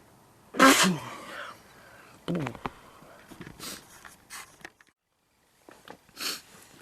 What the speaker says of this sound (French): Excusez-moi, mais fallait que j'éternue.